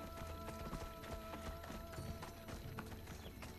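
A horse gallops in the video game Assassin's Creed Odyssey, a rapid, steady run of hoof clip-clops that carries on the whole time at moderate level within a busy game soundscape.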